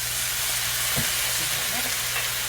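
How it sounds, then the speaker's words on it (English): Steady, broadband sizzling of chicken searing in a hot pan, continuous throughout, with a brief clunk near the start and faint stirring noises, as white wine is added. "You want that sizzle."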